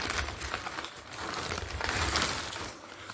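Close, continuous crinkling and rustling of a plastic shopping bag being unpacked, with no speech.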